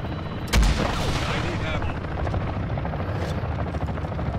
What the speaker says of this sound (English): Let me bomb this chopper first.